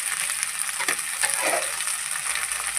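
Cleaned crab pieces fry in hot oil for crab gravy, a close, steady sizzling hiss with a few brief scraping stirs.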